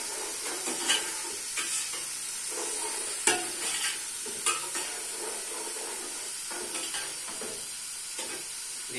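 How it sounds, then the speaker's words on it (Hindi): Garlic fries in a pan with a steady hiss and sizzle while occasional stirring scrapes and light clinks of utensils sound at close range. "देखिए लहसुन भी भून चुका है अच्छे से।"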